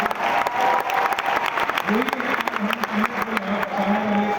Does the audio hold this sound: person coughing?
no